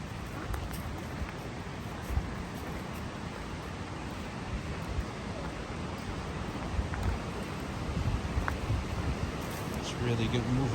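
River flowing near waterfalls, a steady broadband rush of moving water that swells slightly toward the end, with faint rustling mixed in.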